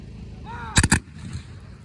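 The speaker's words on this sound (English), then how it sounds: "You can still hear the individual rifle shots" Civil War reenactors fire a rifle volley, heard as two sharp, loud reports in close succession, with quiet outdoor background before and after.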